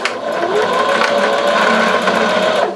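A sewing machine backstitches across the elastic of a pleated fabric face mask in one steady, close, continuous whir that lasts a few seconds with no talking.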